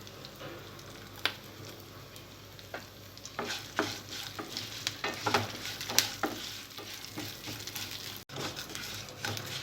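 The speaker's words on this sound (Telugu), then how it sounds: "పప్పులు కొద్దిగా ఫ్రై అయిన తర్వాత ఇందులో కరివేపాకు వేసుకోవాలి." Lentils and curry leaves fry in hot oil for coconut rice, giving a steady close sizzle broken by frequent stirring scrapes and small clinks of a spoon against the pan, with no talk.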